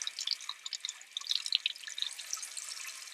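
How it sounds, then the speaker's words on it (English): Tap water runs over a paintbrush being rinsed at a sink, a quiet, steady trickle with scattered drips and splashes and no talking. "I'm going to wash off my brush. I'm going to put it underneath the water"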